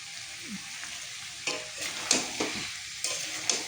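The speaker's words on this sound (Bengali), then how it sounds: "সুন্দর করে তরকারিটাকে কষিয়ে নিই বন্ধুরা" Jackfruit curry stirred and sautéed in a pan at home, a steady close sizzle with repeated scraping strokes of the spoon, no voices.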